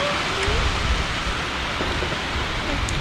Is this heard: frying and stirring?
no